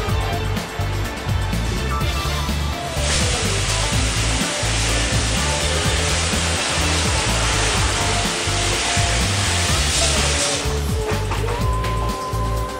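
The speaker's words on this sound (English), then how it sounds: "You only rinse it with cold water." Cold tap water runs hard over food in a metal strainer in a kitchen, a loud steady rushing spray that starts a few seconds in and stops near the end.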